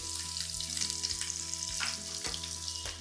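Thinly sliced onions fry in oil with whole spices for palak aloo pulao, a close, steady sizzle punctuated by rhythmic spoon scrapes against the pot, and no speech.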